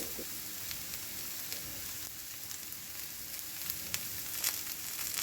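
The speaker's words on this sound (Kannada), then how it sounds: "ಈ ಥರ ಸ್ಲೋ ಆಗಿ ಅದನ್ನು ಕುಕ್ ಮಾಡೋಕ್ಕೆ ಬಿಡಬೇಕು." Slices of bitter gourd fry slowly in hot oil, giving a steady, even sizzle with faint crackles and no voices over it.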